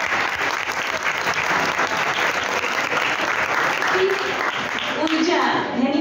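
Sustained applause from an audience at a science club event marking Albert Einstein's birthday, steady dense clapping holding level throughout with a voice briefly audible over it near the end.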